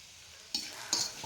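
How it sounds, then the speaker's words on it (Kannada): Goat brain and egg bhurji stirred and fried in a pan on a stove, with a soft background sizzle broken by two short scraping stirs of a spatula close by. "1 ನಿಮಿಷ ಅಥವಾ 2 ನಿಮಿಷಗಳ ಕಾಲ ಇದೇ ರೀತಿ ಬಿಡದೆ ಕೈ ಆಡಿಸ್ಕೊಂಡು ಫ್ರೈ ಮಾಡ್ಕೊಬೇಕಾಗತ್ತೆ"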